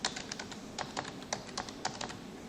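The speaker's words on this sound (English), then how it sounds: "For that you have to type here only file name without the extension" Quick, quiet keystrokes on a computer keyboard as a file name is typed, a light irregular patter of close clicks with no talking.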